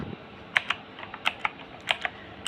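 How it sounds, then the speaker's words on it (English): A one-handed mechanical gaming keyboard, model K106, with sharp individual key clicks tapped at an uneven pace, about a dozen presses in quick succession, close and clear with no talk. "It is satisfying clicks when you press on the actual keyboard."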